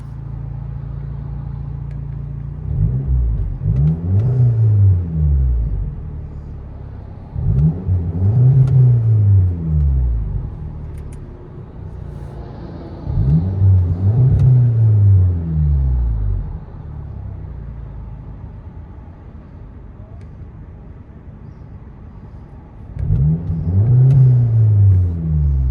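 A 2012 Audi TTS 2.0L turbo with a Vibrant resonator, heard from inside the cabin: a steady low idle drone broken by four loud throttle blips that swell and fall back, spaced several seconds apart, with no talking.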